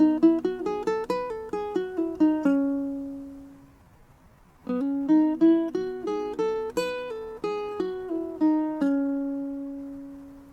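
A ukulele picks a phrase from a song: quick plucked notes ringing out, a short pause, then a second run of notes fading on the last one, played alone and close.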